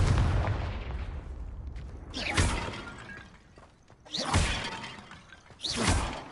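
A Confringo blast spell shattering vases in Hogwarts Legacy: three separate bursts, each a sharp crack with crashing debris and a whooshing tail, spaced a couple of seconds apart, close and loud.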